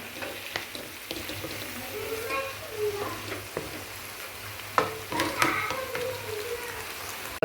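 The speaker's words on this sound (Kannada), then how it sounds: "ಚೆನ್ನಾಗಿ ಒಂದೆರಡು ನಿಮಿಷ ಚೆನ್ನಾಗಿ ಹುರ್ಕೋಬೇಕು ಸೊಪ್ಪನ್ನ" Mixed leafy greens sizzle in a pan on the stove, a continuous moderate hiss with occasional louder stirring scrapes and clatters toward the end.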